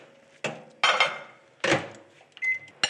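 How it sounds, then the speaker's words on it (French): Microwave oven heating vegetables in a home kitchen, a low steady hum running under sharp clatters of dishes and a door, with a short electronic beep near the end. "Mes légumes, un petit coup de micro-ondes."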